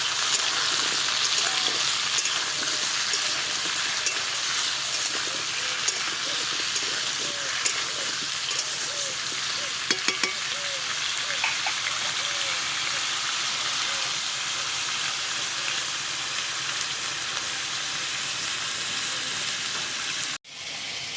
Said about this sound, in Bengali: এবার কুমড়ো আর আলুটাকে খুব ভালো করে ভাজতে হবে